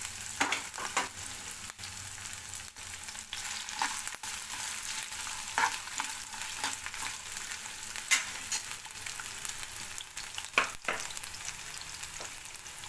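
Sliced ginger, three to four inches' worth, frying in about a spoon and a half of oil for ginger chutney: a steady close sizzle with scattered spatula scrapes and taps, no voices.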